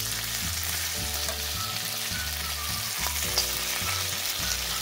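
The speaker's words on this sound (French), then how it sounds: "Je vais maintenant transférer la viande que j'ai pré-cuite tout à l'heure." Pre-cooked meat for Ivorian choukouya frying in a pan with very little oil, a continuous close sizzle with light scraping as it is stirred, no talk.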